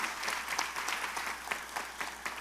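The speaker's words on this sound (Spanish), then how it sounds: "se merece un aplauso" Continuous applause from a crowd, dense overlapping claps holding at an even level throughout.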